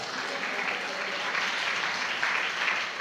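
A church congregation at a gospel prayer fellowship in Nellore claps in steady, dense applause that fills the space throughout, with no voices on top.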